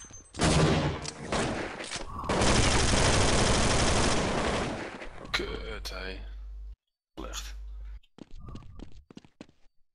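Dense bursts of automatic gunfire from a Counter-Strike 1.6 match on the Inferno map rattle loudly in two long volleys, followed by scattered shorter shots, with players chatting over voice comms.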